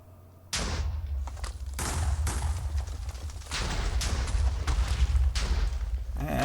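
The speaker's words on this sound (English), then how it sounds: "we can watch the explosions happen" A rapid chain of booming Minecraft TNT explosions erupts after a quiet start, blasts overlapping into a continuous rumbling barrage.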